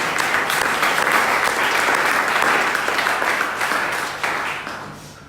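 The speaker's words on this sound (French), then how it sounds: "Et nous acclamons le Seigneur pour sa bonne parole ce soir." A church congregation breaks into loud, sustained applause, a thick wash of many hands clapping together that slowly fades away over the final seconds.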